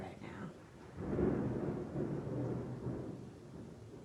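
Thunder from a storm rolls in as a deep, swelling rumble that builds after a quieter start and then lingers in a long, grumbling tail, somewhat distant and muffled.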